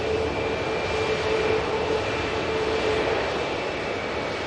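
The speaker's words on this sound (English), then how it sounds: "the British Airways shuttle service is now beginning its taxi as well for the return to Heathrow" British Airways shuttle jet airliner taxiing at Manchester Airport, a loud steady engine roar with broad rushing noise and a faint tonal whine, constant throughout, no voices.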